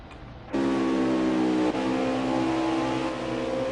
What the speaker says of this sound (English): Sounds like the car's still running.